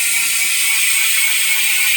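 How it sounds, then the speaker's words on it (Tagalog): Freewheeling Tanke TH490 MTB rear hub with sealed bearings on a carbon rigid mountain bike, giving a crisp, dense ratchet buzz from the pawls that runs steadily and loud, close up, with no talk. "MTB hubs kapag naka-freewheel."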